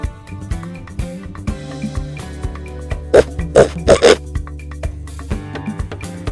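A pig grunts in a few short, close, rough bursts over a gentle music bed, the snorts clustered near the middle and spaced about half a second apart.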